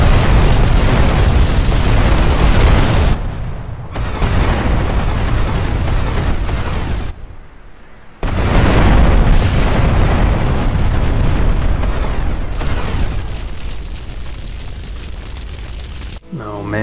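Bomb explosions in the video game GTA Vice City, loud sustained blasts and rumbling booms filling the clip, broken by brief drops in level between bursts.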